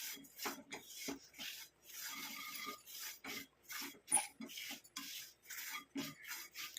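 Amla (gooseberry) powder roasting in a pan is stirred in quiet, uneven scraping strokes, a close dry rasp repeating every fraction of a second.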